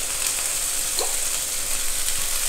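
Vegetables frying in a pan with spices for veg spring roll filling, a steady bright sizzle with a faint stirring scrape, close and continuous.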